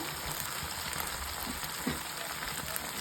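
Prawns roasting in ghee for a Mangalore-style ghee roast give off a steady, close, dense sizzle and crackle that stays even throughout, with no voices over it.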